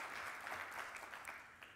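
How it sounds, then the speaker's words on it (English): Steady applause from a conference audience, a dense wash of clapping that holds at an even level for a couple of seconds. "I think it deserves applause"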